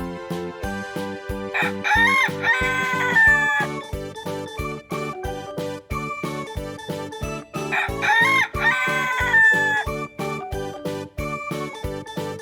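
Farm rooster crowing twice, each long cock-a-doodle-doo rising and falling clearly above a bouncy, rhythmic children's music track.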